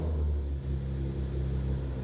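A Nissan 370Z Nismo with a new exhaust idles with a steady, low rumbling drone, close and even, with no revving.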